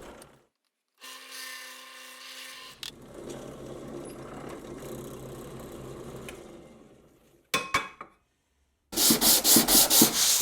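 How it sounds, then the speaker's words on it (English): A power drill bores through a piece of MDF with a series of bits, producing separate bursts of loud grinding and whirring with brief pauses between passes, and no talking. "I simply drill through the piece with each one in size order."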